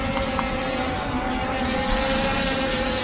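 A CFLY Faith 2 drone flying in to land, a continuous loud motor drone with a steady whining tone that holds close and constant throughout, with no speech.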